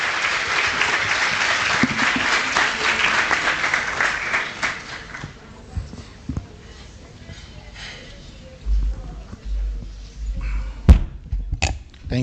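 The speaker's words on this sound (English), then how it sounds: "Students and guests, let's give a round of applause for Dante Klink and the second." Audience applause at a school speaking event, a dense burst of clapping that fills the first few seconds and then thins out and fades into scattered room noise and a few knocks.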